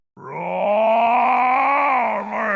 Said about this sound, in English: One yawn shook the entire city.